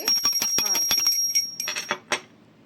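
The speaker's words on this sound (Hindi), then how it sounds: "और घंटी बजाकर कर लेंगे आरती।" A small hand bell rings in a quick, steady tinkle with a bright sustained tone during a Hindu Janmashtami worship aarti, then stops and a few softer rings trail off.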